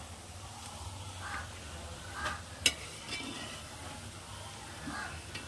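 Fried rice vegetables with carrot being stirred and scooped in a pan, a faint scraping stir with a soft sizzle and one sharp utensil clink near the middle, fairly quiet.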